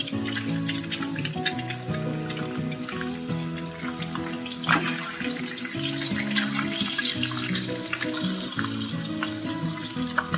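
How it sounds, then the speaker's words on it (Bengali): Eggs fry in hot oil in a pan for Bengali egg curry, browning with a steady, close crackling sizzle that runs without a break and has a few louder spatters. "একটু লাল লাল করে ভেজে নিচ্ছি।"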